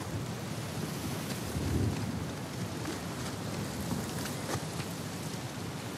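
Thunderstorm brewing in the Uncharted 4 game, with a steady wash of rain and wind and a low thunder rumble swelling briefly near the start.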